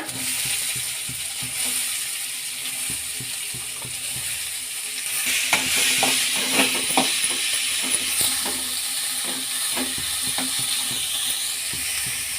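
Green chillies and onion frying in hot oil for a pigeon pea saaru, a soft continuous sizzle broken by clicks and scrapes of stirring, louder in the middle stretch, with no talking.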